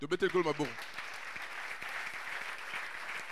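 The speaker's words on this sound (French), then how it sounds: "Acclamons le Seigneur." A church congregation breaks into warm applause at a French-language worship service. A voice briefly leads in before the sustained clapping fills the room and carries on evenly to the end.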